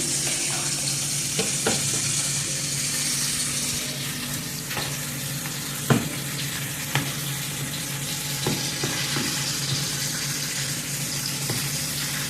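Mayo, ketchup and milk stirred into a sauce, a continuous wet swishing with scattered clicks of a utensil against the bowl, alongside a steady background hiss.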